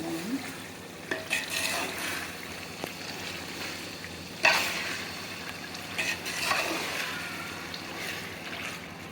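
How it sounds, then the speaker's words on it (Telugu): Onions with ginger-garlic paste and tomato fry in a pan, a steady low sizzle broken by scraping stirs and a few louder clatters of the spoon, close up with no talking. "ఒక 5 నిమిషాల వరకు వేగించాలండి"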